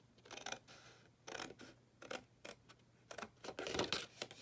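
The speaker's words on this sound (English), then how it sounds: "We're just going to cut all the way through" Scissors snip through craft paper along a score line for a backpack project, a close, quiet series of crisp separate cuts and rustles in an uneven rhythm.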